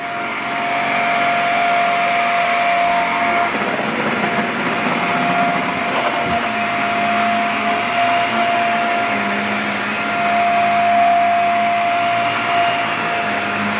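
A Fantom cleaning machine vacuums a carpet right after a capture machine, with a loud, steady motor roar and high whine that swells slightly as the machine moves over the floor.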